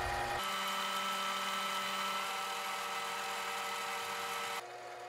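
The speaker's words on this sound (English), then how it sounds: "This is my starter drill." A starter drill bores into a metal workpiece while a bicycle head tube reamer-facer tool is made, a steady mechanical whine, continuous and fairly loud, dropping off abruptly near the end.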